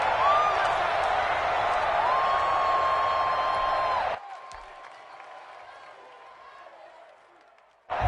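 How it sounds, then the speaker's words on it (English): A stadium crowd roars in Madden 21 ahead of a big third down, a loud, steady wash of cheering with a whistle-like tone in it that drops away sharply midway, leaving faint murmur before noise swells back. "the crowd getting into it as we come up on a big 3rd down"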